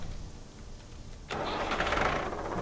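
Fire engine starting up in the Industrial Firefighter Simulator video game: a low idle rumble abruptly jumps into a louder, fuller engine roar midway through, steady and close.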